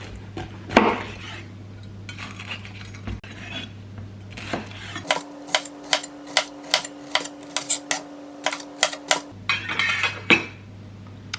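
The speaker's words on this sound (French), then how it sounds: "Je vais le couper en lamelles et puis le mettre au four dans un petit quart d'heure." A knife slices a washed bell pepper into thin strips on a cutting board, giving a run of about a dozen sharp, evenly spaced chopping taps close by, with softer kitchen clatter before and after and no talking.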